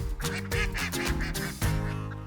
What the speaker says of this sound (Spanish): ¿Ves el último patito de goma?